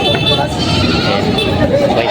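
Goats bleating among a crowd of people talking in the background at a goat market in Padre Garcia, Batangas, the animal calls rising above the steady chatter.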